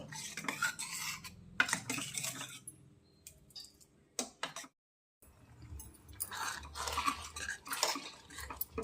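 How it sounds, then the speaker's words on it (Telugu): Moong dal and flattened rice payasam with milk being stirred in a pot, giving repeated scraping, sloshing strokes in irregular bursts with a short quiet pause midway. "ఇలా మధ్య మధ్యలో కలుపుతూ ఉండండి"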